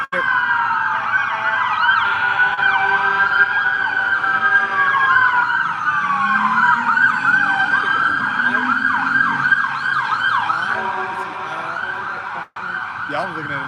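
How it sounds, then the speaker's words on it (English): Several loud sirens wail and yelp together, overlapping in sweeping tones as emergency vehicles pass close by, with a faint voice underneath. "I'm gonna let these sirens pass by real quick."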